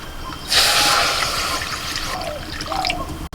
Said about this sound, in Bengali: এক মগ জল দিয়েছি